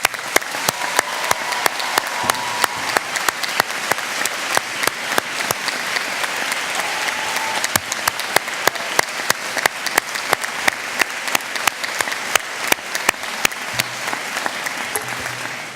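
Sustained applause from an audience at a university graduation ceremony in Chelmsford, dense steady clapping from a large crowd filling the hall continuously from start to finish.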